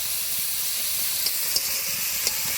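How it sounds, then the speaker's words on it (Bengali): Thinly sliced potato and eggplant fry in a pan, giving a constant hissing sizzle broken by a few light spatula taps as the vegetables are stirred, close by and without speech. "আলু বেগুনটা পাতলা পাতলা কাটলে এরকম নাড়তে নাড়তেই হয়ে যাবে ঘন্টটা।"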